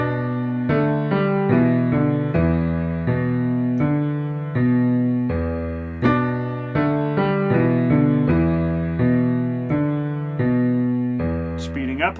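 Piano playing a riff slowly: repeated low bass-register notes in a steady, deliberate rhythm, loud and close, with each note decaying before the next across the whole phrase, with no talking over it.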